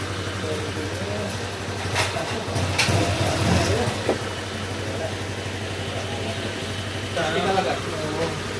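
A motorcycle engine, freshly overhauled, idles at a steady low hum, close and even, while someone talks over it.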